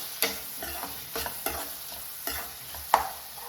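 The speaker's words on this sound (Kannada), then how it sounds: "ಆನಿಯನ್ ಚೆನ್ನಾಗಿ ಫ್ರೈ ಆಗ್ತಿದೆ." Onion frying in hot oil in a pan, with a soft constant sizzle broken by about six sharp scrapes of a spoon stirring at an uneven pace. The sound is close and there is no talking.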